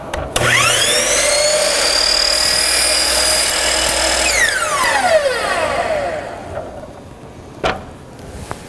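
A miter saw motor spins up to a loud steady whine, bites through wood, then winds down in falling pitch before a couple of sharp knocks.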